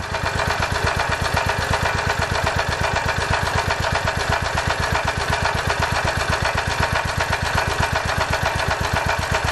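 A generator engine running on HHO idles steadily and close by, with an even, rapid thumping rhythm under a constant roar.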